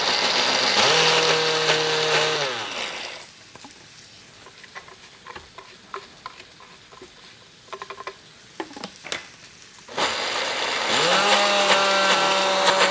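A food processor whirs loudly in two short bursts, chopping a coating mix for a rack of lamb, with quieter clicks and light kitchen clatter in the pause between pulses.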